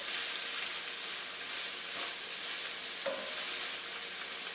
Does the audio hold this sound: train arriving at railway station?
no